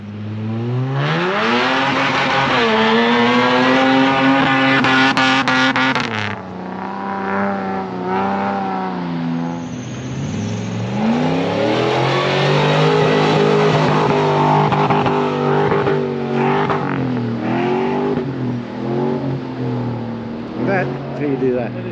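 A 4WD vehicle driving a soft sand track on Fraser Island, its engine rising and falling steadily through gear changes, loud and close inside the cabin, with a voice talking over it.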